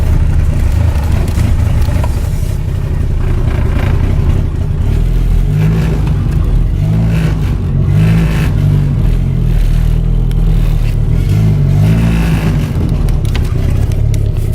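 A Mitsubishi 1G DSM GSX car rumbles loudly from inside the cabin as it drives off, with a low engine drone rising and falling through repeated revs and occasional clattering.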